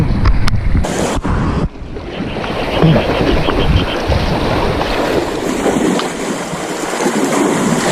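Rough ocean waves washing around a small fishing boat near an island, a loud continuous surge and splash mixed with heavy wind buffeting, a few sharp knocks at the start.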